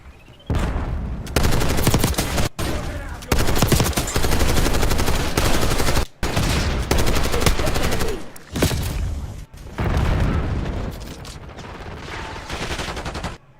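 Sustained submachine gun fire in Call of Duty, loud close bursts of rapid automatic shots broken by brief pauses, running almost nonstop with little talk over it.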